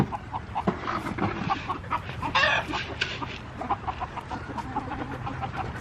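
Backyard chickens clucking close by in short, irregular bursts, with scattered soft clucks and one brief louder squawk amid light outdoor background sounds.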